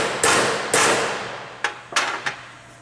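A hammer strikes metal belt fastener clips on a conveyor belt, with two loud ringing blows followed by three quicker, lighter taps, close by with no talk.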